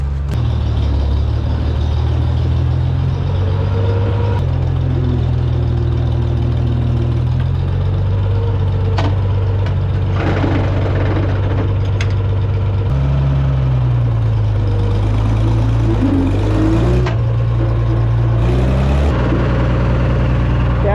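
A loud 706 gasoline farm tractor engine chugs and idles with a deep, knocking rumble, its pitch shifting a few times as the throttle changes, up close throughout.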